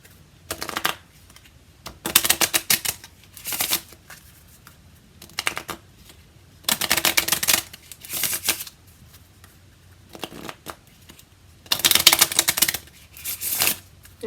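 A deck of cards is shuffled repeatedly, each riffle a crisp burst of rapid flutter, close by with quiet gaps between the shuffles.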